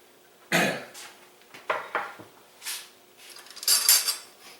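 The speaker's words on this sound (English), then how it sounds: "I'm just going to put it back on the stove." A hot pan set back down on a home kitchen stove: a sharp metallic clank followed by a few lighter knocks and scrapes of cookware, close and fairly quiet, with no talking.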